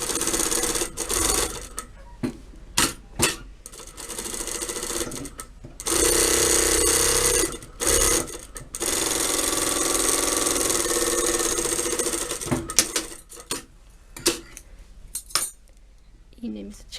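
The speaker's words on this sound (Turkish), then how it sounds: "İleri geri dikişimizi mutlaka yapıyoruz." Sewing machine stitching forward and back along a pillow seam, with bursts of steady mechanical whirring broken by pauses, clicks and handling noises.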